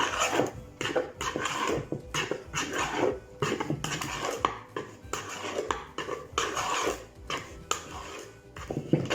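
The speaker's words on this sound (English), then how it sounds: "And stir it around until it's all mixed in." A spoon stirs almonds into a thick baking mixture in a bowl, giving repeated scraping and clinking strokes in an irregular rhythm, close up and fairly loud, with no talking.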